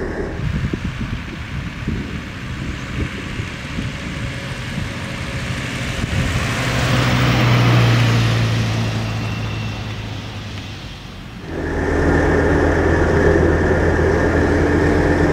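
A 1965 Mercedes O 319 D bus engine drones steadily in fourth gear, swelling louder midway, dipping, then settling into a steady low hum after a gear change.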